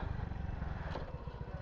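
An old motorcycle's engine runs at a quiet, steady idle with a pulsing, slightly clattery low chug, somewhat distant and faint, with no talk.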